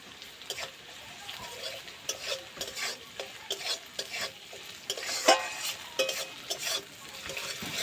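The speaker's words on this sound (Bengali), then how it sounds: "আদা রসুনটা এবার ভেজে নেব" Ginger garlic paste frying with onion in a pan, a continuous sizzle broken by repeated rhythmic scrapes and taps of a spatula stirring against the pan, close and without any talking.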